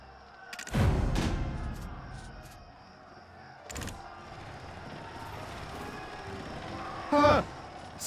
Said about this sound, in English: It's this noise from all the cannons!